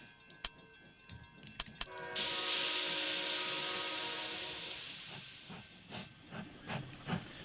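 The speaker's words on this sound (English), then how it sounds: "That just sounds like the train that's down by the riverside" Steam train in the Rolling Line model railway game lets out a loud, sustained hiss of steam that swells in and slowly fades, framed by sharp metallic clanks and rhythmic chuffs before and after.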